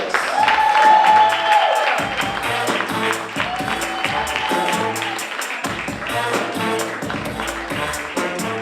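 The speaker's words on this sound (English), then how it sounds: "Start clapping your hands for Trent Jones." A comedy club audience claps and cheers for a comedian, a dense wash of applause that stays loud and steady while a voice talks over it.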